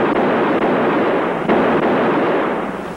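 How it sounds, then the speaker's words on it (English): A burst of gunfire in a 1960 ABC TV trailer for a Philip Marlowe detective series, a dense, loud, continuous crackle of shots and blasts lasting a few seconds. "He's off in a blaze of bullets."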